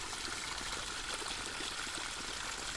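Water from an irrigation motor pipe watering a field, a steady faint gushing stream that runs on without a break.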